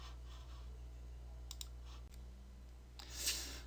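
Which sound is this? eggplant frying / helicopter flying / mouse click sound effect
mouse click sound effect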